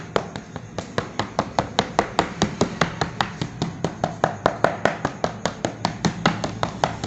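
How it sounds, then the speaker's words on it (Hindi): A fork pricks holes in pizza dough spread in a pan, making a steady run of sharp, evenly spaced taps, about four per second, close and distinct, with no speech. "अब कांटे के साथ इस पर सुराख कर लेंगे।"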